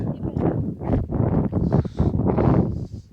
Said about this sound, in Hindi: हवा चल रही है यहाँ पे तेज